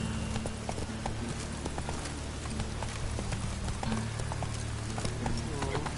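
Horse hooves clip-clop in a steady galloping rhythm in The Witcher 3, close and continuous with game music and ambience underneath, and a voice talks briefly over it.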